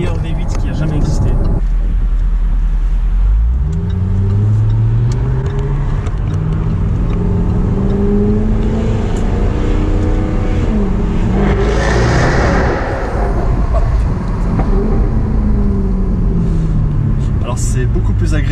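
A V8 sports car engine revs and climbs in pitch, loud and close, its deep rumble rising and falling over several seconds.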